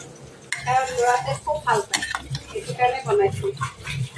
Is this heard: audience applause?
no